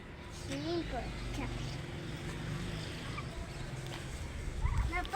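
Turkeys gobbling on a farm, a few short warbling gobbles heard faintly at the start and again near the end over a constant low rumble of background noise.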